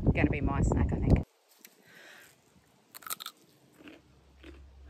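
A garden vegetable snack, picked from a home garden, bitten and chewed close to the microphone: a few crisp crunches after a short burst of speech, then quieter chewing.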